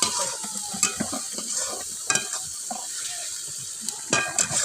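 Ground coriander, salt and spices for fish curry fry in oil in a pan, sizzling steadily close up while a spatula scrapes and clinks against the metal at irregular moments.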